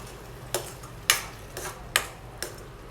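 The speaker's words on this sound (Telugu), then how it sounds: "టమాటో పేస్ట్ వేసిన తర్వాత ఇదంతా కూడా మరొకసారి బాగా కలిసేటట్టు మిక్స్ చేసుకోవాలండి." Tomato paste frying in a pan for egg curry is stirred with a utensil, giving sharp regular clicks of spoon against pan about every half second over a faint frying hiss.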